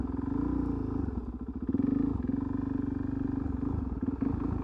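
A motorcycle creeping along at low speed under throttle and clutch control, its engine a close, steady low thrum with brief rises in revs and a faint clatter, no voices.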